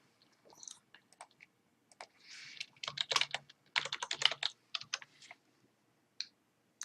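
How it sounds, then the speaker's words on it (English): Bursts of quick clicking keystrokes on a computer keyboard as a username and password are entered, uneven runs of taps with short pauses, close and fairly quiet. "typing in our username and our password"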